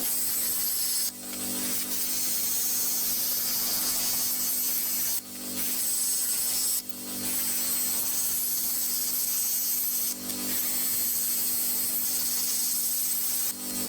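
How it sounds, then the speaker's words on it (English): Steady hand sawing through scrap wood for a slingshot fork, a continuous rasping with brief pauses between stroke runs, close and fairly loud over a low background hum. "So we begin by sawing this out"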